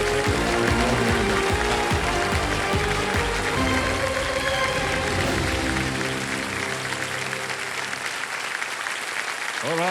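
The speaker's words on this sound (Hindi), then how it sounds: "तालियां बज जाए इनके लिए" A large studio audience at a televised quiz show claps steadily and loudly for a departing contestant, sustained dense applause that thins slightly toward the end.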